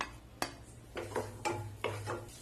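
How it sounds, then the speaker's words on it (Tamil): Finely chopped garlic, about twelve cloves, scraped into melting butter in a pan, giving a few separate clinks and scraping strokes spaced through the clip over a low background hum, with no talking. "இந்த ஸ்டேஜ்ல ஒரு 12 பல் பூண்டு இந்த மாதிரி பொடியா சாப் பண்ணி வச்சிருக்கேன். அதை வந்துட்டு சேர்த்திக்கலாம்."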